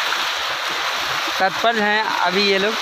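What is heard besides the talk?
fast-flowing river water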